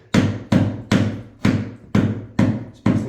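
Mallet knocking wooden pegs into an IKEA Pax closet during assembly: seven sharp, evenly spaced blows about half a second apart, close and loud, with no talk.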